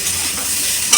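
Papad frying in hot oil, a brief steady hiss of bubbling oil lasting about a second, close and fairly loud, with a slightly louder crackle at the very end.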